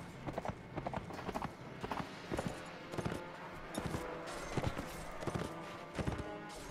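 A horse gallops in the medieval combat game Mount & Blade: Warband, its hooves a fast, regular clip-clop rhythm that is close and fairly quiet, with faint battle noise behind.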